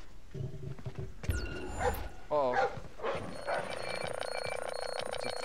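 Guard dog barking and yipping in the stealth video game Splinter Cell Blacklist, a few loud, sharp barks amid game noise and a steady electronic hum, with people talking over it.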